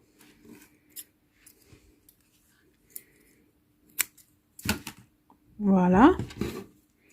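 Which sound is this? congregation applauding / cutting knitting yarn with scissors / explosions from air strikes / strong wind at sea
cutting knitting yarn with scissors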